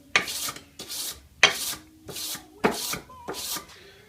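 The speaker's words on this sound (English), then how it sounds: "sandpaper does get dull very quick, so after a handful of passes you do need to move it" Sandpaper is drawn by hand along a custom knife blade in six evenly spaced rasping strokes, each a short, close, scratchy pass with quiet gaps between.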